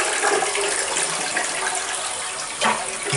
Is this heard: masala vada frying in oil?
no